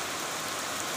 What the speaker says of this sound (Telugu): వర్షం, సౌండ్ కూడా మీకు మంచిగా జోరుగా నస్తుంది.